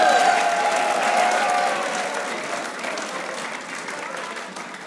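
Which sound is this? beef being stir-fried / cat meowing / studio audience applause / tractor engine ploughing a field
studio audience applause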